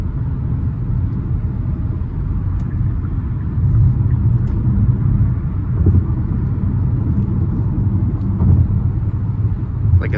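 A 2024 Kia Telluride SX Prestige with a six-cylinder engine cruises along, giving a steady low rumble and road drone from inside the cabin with only a slight swell in level.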